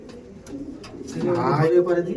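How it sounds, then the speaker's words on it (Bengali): Aggressive flying pigeons coo in a low, throaty murmur that swells in the second half, mixed with someone talking close by. "এরা প্রচুর অ্যাগ্রেসিভ পায়রা"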